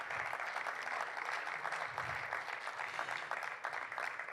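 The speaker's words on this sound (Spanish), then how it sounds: "Por favor, un aplauso para recibirlo." Faint, distant audience applause at a transport security panel welcoming a panelist, a steady wash of clapping without clear voices.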